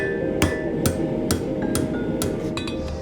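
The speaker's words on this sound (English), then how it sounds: "my ears have tuned into the different sounds that the anvil makes" A blacksmith's hammer strikes steel on an anvil in a series of sharp, ringing metallic blows at an uneven pace, close and loud over a steady background hum.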